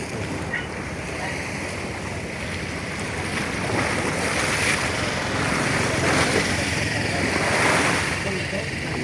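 Sea waves on a rainy, overcast day in Bicol wash in a steady broad roar mixed with wind rumble, swelling gently and continuously from start to end.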